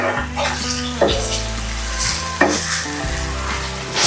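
Half a kilo of mutton pieces stirred with ginger in a pan for Andhra-style gongura mutton curry, a steady sizzle broken by scraping stirs and clanks of the utensil against the pan, close up.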